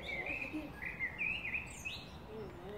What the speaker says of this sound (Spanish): Aquí te despiertan los pajaritos.